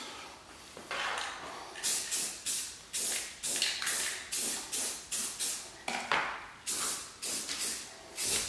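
Short bursts of aerosol spray paint hiss onto plumbing pipe for a reef tank, about a dozen quick, close sprays in an uneven rhythm.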